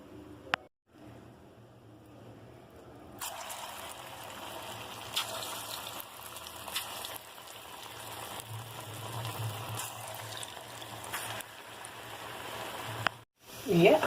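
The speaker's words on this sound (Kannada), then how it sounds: "ಈಗೇನದ ಇವನ್ನ ಎಣ್ಣೆ ಒಳಗೆ ಕರಿಯೋಣ." Ambode, lentil fritters, frying in hot oil for a festival meal, a steady close sizzle and bubbling that swells from about three seconds on and runs nearly unbroken to the end, with faint voice underneath.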